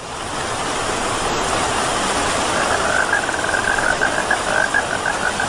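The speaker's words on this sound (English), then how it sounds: "It's raining!" Steady rain falls, a dense broadband hiss running throughout with no voices over it.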